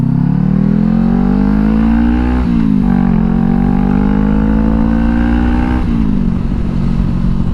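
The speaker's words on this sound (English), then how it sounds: "yeah, I love how this bike sounds, man." A Honda CBR500R motorcycle engine revs loud and close, its note climbing steadily, dipping briefly and rising again in long sweeps of throttle.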